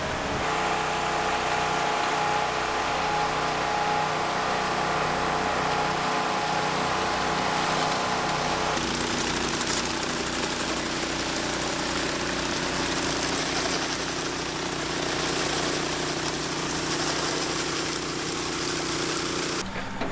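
A ride-on concrete power trowel fitted with Wagman plastic poly finishing blades runs steadily, its engine a low continuous drone with a slight change in tone partway through and no talking.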